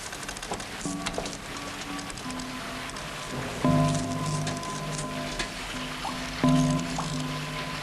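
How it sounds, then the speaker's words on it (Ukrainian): Water leaks through an old roof, dripping steadily like rain against a hard surface, with a few louder splashing drops under a constant hiss in an indoor room. "О, тече. Як дощ. Вже два роки тече."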